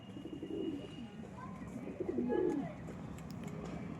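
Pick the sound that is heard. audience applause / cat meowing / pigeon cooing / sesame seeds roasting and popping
pigeon cooing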